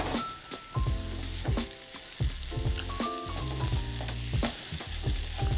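Spiced quinoa fried rice sizzles steadily in hot oil in a pan, with occasional stirring scrapes and a melodic backing running underneath.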